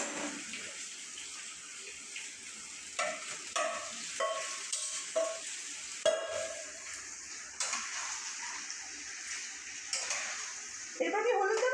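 Parboiled potatoes, still a little wet, frying in hot oil in a pan, with a steady loud sizzle and hiss. Repeated clattering scrapes of a ladle stirring them, then a louder burst of spitting near the end.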